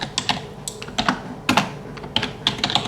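Close, steady typing of code on a computer keyboard, brisk uneven keystroke clicks in clusters with brief gaps, clear and alone with no voices.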